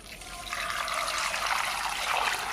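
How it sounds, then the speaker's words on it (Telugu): Water pours steadily into a bowl holding jaggery and crushed cardamom for panakam, a continuous close splashing rush with no talking. "వాటర్ పోసుకుందామండి."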